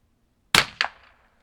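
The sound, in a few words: gunshot firing .22LR Aguila pistol match ammo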